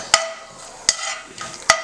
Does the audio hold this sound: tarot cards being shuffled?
no